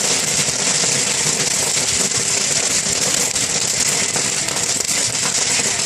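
Popcorn bursting inside a steel drum popper at an outdoor farmers' market, a dense, continuous crackle of rapid pops with no gaps, loud and close.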